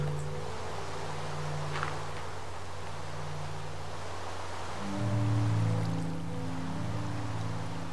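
A waterfall in Minecraft on PS3 makes a constant soft hiss of rushing water at a moderate level, with gentle game music tones layered over it and no voices.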